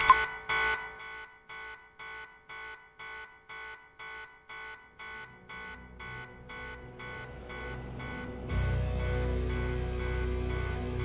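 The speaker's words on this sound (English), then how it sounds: "Blasted alarms. They must have heard the gunfire." A video game alarm: a pulsing electronic beep sounds rapidly and steadily for several seconds, then gives way to a louder, rumbling alarm tone with heavy low noise.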